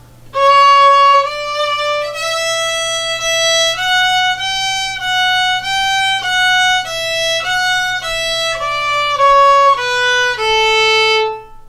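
A fiddle plays a phrase of the folk tune "Old Joe Clark" alone, slowly, one sustained note after another in a steady, even rhythm, close and clear.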